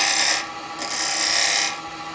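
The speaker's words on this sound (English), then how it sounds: "I just want to put that tiniest little chamfer on here" Wood lathe tool cutting a small chamfer on a spinning spalted wood vase, a steady close scraping rasp in two bursts with a brief lull between, no talk.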